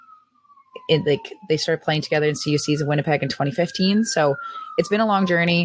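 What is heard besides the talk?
police sirens passing in the city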